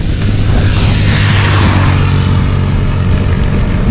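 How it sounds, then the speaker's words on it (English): Loud, close roadside traffic beside a cyclist on a narrow-shouldered Nicaraguan highway, a vehicle surging past with a rushing engine roar that swells and then levels into a steady wash of road noise. "give us a break from all the noise of the traffic"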